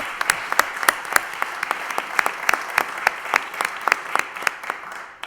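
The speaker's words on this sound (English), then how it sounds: "could you give them all, please, a round of applause, please?" Applause at a Lowell city council meeting in council chambers for the owners of the Zorba Music Hall and Olympia Restaurant, a steady patter of individual claps from a modest room, moderately loud and without talk throughout.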